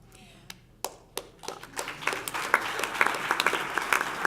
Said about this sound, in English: You'll get tired of clapping soon.